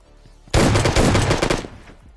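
A sudden loud burst of rapid automatic gunfire in a battle royale video game, rattling continuously for about a second and a half before cutting off, with no talk.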